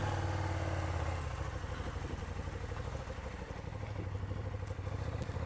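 A 2019 KTM 1290 Super Duke GT sport-touring motorcycle engine idles nearby, a steady mechanical rumble with light clatter that dips slightly after the first second, then holds even.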